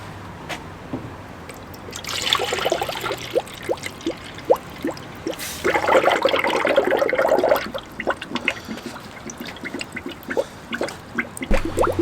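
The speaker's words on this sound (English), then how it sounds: "So right now I added basically the coolant to the funnel, and it's just going in there slowly" Coolant trickles and gurgles into a filler funnel on a 1999 Chevy S10, with a soft burbling pour, bubbling surges and intermittent drips close by.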